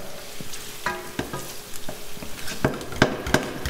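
Onions sweating gently in oil for a courgette and mint risotto, a soft steady sizzle broken by a series of sharp spoon knocks and scrapes against the pan.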